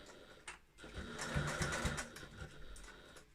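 A sewing machine stitching a fabric bag with a slightly longer stitch, running in a quiet, steady whir that rises and falls over a few seconds, fairly faint and without talk.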